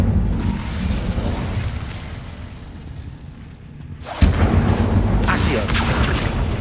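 Incendio fire spell cast in the video game Hogwarts Legacy, a roaring whoosh of flame that fades, then a sudden loud burst erupts and keeps rumbling.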